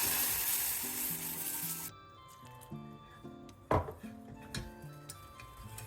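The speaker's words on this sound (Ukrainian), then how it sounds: "Потроху вливаємо холодний бульйон, постійно працюючи вінчиком." A frying flour roux sizzles loudly, then drops to a quieter bubbling once cold broth is poured in and whisked steadily, with occasional sharp scrapes and knocks of the whisk against the pan.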